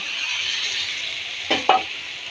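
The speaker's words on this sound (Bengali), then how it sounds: "মাছ মাছের সাথে কাঁচা লঙ্কাও ছেড়ে দিলাম" Fish and green chillies fry in hot oil with a steady close sizzle, broken by two brief bursts of louder spitting or stirring near the end.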